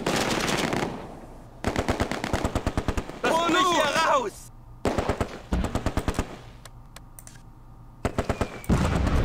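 Gunfire in the video game Close Combat 2 arrives as repeated bursts of rapid, crisp shots separated by short quiet gaps, with a brief voice in between.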